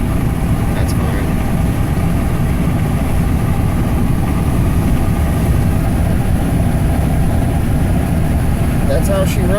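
A Ram Ecodiesel pickup engine runs at highway speed in sixth gear while towing, with a loud, steady low drone and road rumble continuing throughout.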